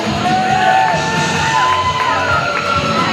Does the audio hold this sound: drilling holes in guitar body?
no